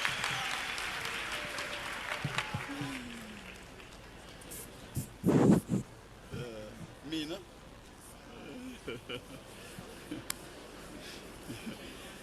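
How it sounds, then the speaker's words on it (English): An audience at a youth empowerment week launch event claps in a sustained wave of applause, with a presenter's amplified voice heard speaking over it and a few louder bursts midway. "Let's give him another round of applause."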